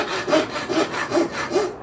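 Hot rasping a heated rail spike by hand, a rough rhythmic scraping with four strong back-and-forth strokes, close and loud with no talking.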